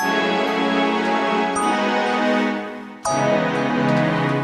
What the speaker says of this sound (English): This one is London Gold Bell Strings.